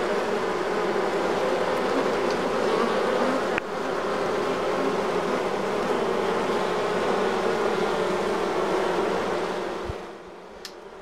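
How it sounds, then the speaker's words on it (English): A swarm of honey bees buzzes around a swarm trap box baited with lemongrass oil, making a dense, continuous, loud hum close by that thins out briefly near the end. "that attracts swarms of bees that are flying around in the area"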